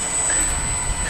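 An FMS Maule 1500mm RC float plane's electric motor is throttled up on the water, a steady, close whirring roar with a thin high whine, alone and without talk.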